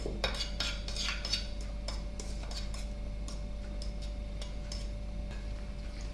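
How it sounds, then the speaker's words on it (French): A small metal rod zigzags through fruit coulis in homemade ice cream in a container, making light clinks and taps at irregular intervals over a steady low hum, close and fairly faint. "j'ai été chercher ma petite tige de métal parce qu'en fait, je vais faire des petits zigzags comme ça pour légèrement mélanger le coulis"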